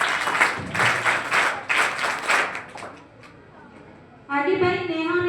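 A crowd at a 12th-grade board student honour ceremony claps in a loud burst that fades out; a voice then speaks over a quieter stretch as the applause trails off.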